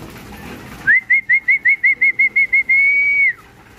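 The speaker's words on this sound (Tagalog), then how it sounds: "Oh, ito nanghihingi oh, si Force to Win oh." Racing pigeons beg for food inside a loft. About ten short, loud, high peeps come in a quick even series, then one longer held peep before it stops.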